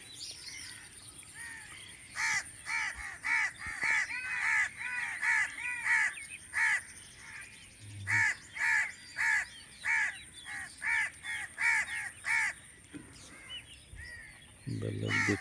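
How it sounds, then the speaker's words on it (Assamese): Crows caw repeatedly near village rice fields in the morning, a loud run of harsh calls in uneven bursts over faint outdoor background noise, with a voice briefly audible. "কাউৰীৰ অত্যাচাৰত থাকিব পৰা নাই।"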